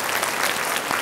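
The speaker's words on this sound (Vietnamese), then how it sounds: "xin một tràng pháo tay ạ." Dense audience applause on a Vietnamese TV show stage, a steady loud wash of many hands clapping with no talk.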